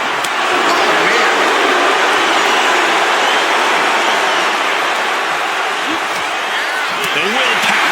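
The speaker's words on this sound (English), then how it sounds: "Listen to this crowd, driving these competitors to leave everything out in the ring." Steady, loud roar of a wrestling arena crowd in WWE 2K25 at SummerSlam in Cleveland, a dense continuous wash of cheering that fills the whole stretch without letup.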